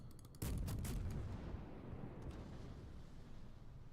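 A single heavy boom of destroyer gunfire in World of Warships hits at once and rolls off into a long low rumble, muffled and fairly faint, with no talk.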